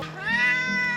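A cat rescued from a wildfire gives a single drawn-out, close meow while eating, loud and clear with faint background noise.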